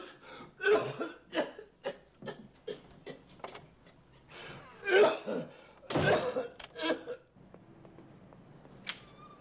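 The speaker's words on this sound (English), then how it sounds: "Your cough's getting worse." A man coughs repeatedly in harsh, uneven bursts and throat clears, close and fairly loud, with short breaths and quieter gaps between fits.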